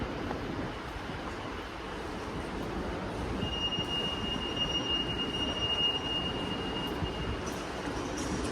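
A steady rumbling ride on the Heathrow Airport shuttle train with a high metallic squeal of wheels on rails emerging partway through, continuous and moderately loud.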